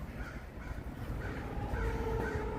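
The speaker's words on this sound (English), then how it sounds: "Here are the crows. The crows are giving me the what for." Crows caw in Chicago's Grant Park near a suspension bridge. Several harsh caws repeat at moderate distance over steady outdoor background noise.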